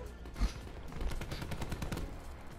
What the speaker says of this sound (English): Listen, listen to how freaking loud your gun is.